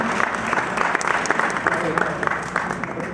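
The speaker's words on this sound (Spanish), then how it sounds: "Un aplauso," An audience claps after a presentation, a moderately loud burst of applause with a clear rhythmic pattern and voices murmuring underneath.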